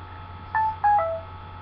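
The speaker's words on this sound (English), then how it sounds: "My phone keeps going off because my favorite emailer is texting me." A mobile phone sounds a text message alert, two short electronic tone bursts close by against quiet background hum.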